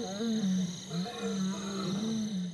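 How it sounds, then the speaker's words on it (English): Lions roaring in the Okavango Delta, a deep, loud, sustained series of low roaring calls carrying steadily through the whole stretch with a faint high background hum. "they absolutely communicate with each other using their roars."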